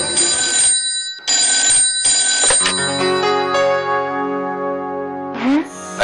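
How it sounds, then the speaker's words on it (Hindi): A telephone rings in a domestic drama scene, with three loud electronic ring bursts separated by short gaps, followed by a sustained ringing tone that carries on and swells again at the end. "एक ही रिंग में फोन उठा लिया"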